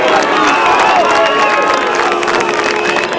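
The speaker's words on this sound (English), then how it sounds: "Crowd enjoying this comeback here by Mernda." Amateur Australian rules football crowd at a Mernda versus Panton Hill match in 2012 cheers and shouts after a goal, a steady loud roar of voices filling the whole stretch.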